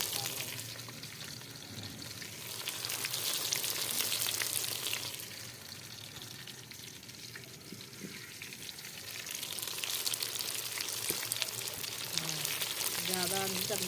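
Eggplant fries in a pan for baingan masala, a steady, close sizzle and crackle that swells and eases over about fourteen seconds, with small clicks of stirring.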